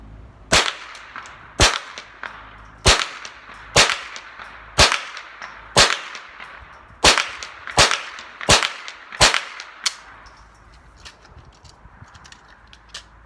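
Ruger 10/22 M1 Carbine rifle firing CCI Standard Velocity .22 rounds at a range: about ten sharp, evenly spaced shots, each a loud crack with a short ringing tail, then quiet room tone.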